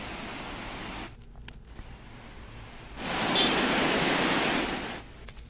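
Torrential rain and rushing floodwater in Poonch, Kashmir, during landslides make a dense, hissing roar that eases briefly, then swells louder before settling again.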